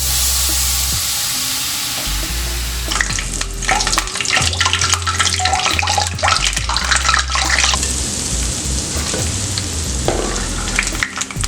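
Boondi batter dropping into hot oil for laddu, a loud continuous bubbling sizzle close by with a low hum underneath and scattered crackles, no voices.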